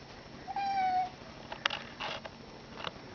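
A house cat gives one clear, drawn-out meow close by, followed by a few soft scuffs and clicks in an otherwise quiet room.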